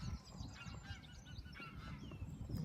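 Geese and their goslings call close by with repeated honks and thin peeping cheeps, a steady chorus of overlapping calls outdoors.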